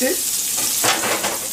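Small white onions dropped into melted butter in a pan for beef bourguignon, giving a bright, steady sizzle with a soft stirring rustle, close and fairly loud, while a voice briefly speaks.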